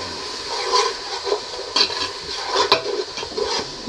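A spoon stirs spices in a hot pan for a chicken liver dish: soft scraping and a few light clinks over a low, steady sizzle, with brief louder bursts as the spoon moves.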